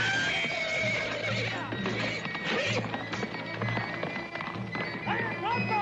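Horses neighing and whinnying amid clip-clopping hooves in a Western drama scene, several loud whinnies rising over hoofbeats and background voices, with a sharp whinny near the end.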